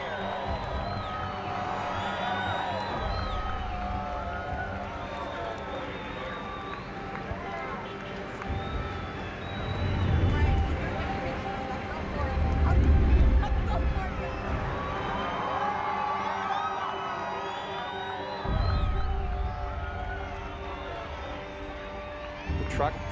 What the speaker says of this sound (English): And then do you hear the crowd?